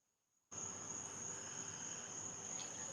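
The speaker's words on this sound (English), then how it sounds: "I think it's the cicadas." Cicadas buzzing outdoors, a steady high-pitched drone that cuts in abruptly after half a second of quiet and then holds continuous and even.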